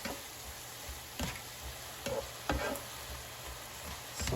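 Oyster mushrooms pan frying with a low steady sizzle, broken by a few scraping stirs of a utensil against the pan, no voices.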